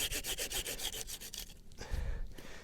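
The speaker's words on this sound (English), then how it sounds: "Drive a little wedge in there," A small wooden wedge is worked into a split stick for a camp pot crane, a close, steady scraping and rubbing of wood on wood with a rhythmic grating pattern.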